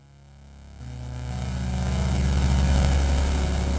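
Spectralis 2 synth oscillators routed through its filter, set up as a paraphonic hybrid: a steady buzzing drone of stacked tones that jumps louder partway in and keeps swelling, with no talk over it.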